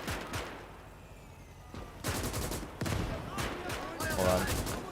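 Machine gun bursts in the WWII game Gates of Hell during an Operation Barbarossa trench defense, rattling in repeated rapid volleys with distant gunfire and battlefield noise, a voice talking over it.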